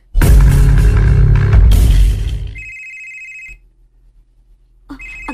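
A cellphone ringtone is heard in a drama scene. A loud burst of music cuts off, then electronic ringing tones sound twice, each a short, clear, bright ring separated by a brief near-silence.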